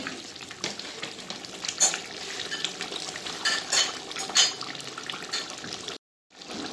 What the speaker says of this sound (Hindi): इसको 2 मिनट भून लेंगे।